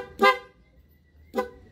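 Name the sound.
Yamaha Sniper 150 motorcycle horn test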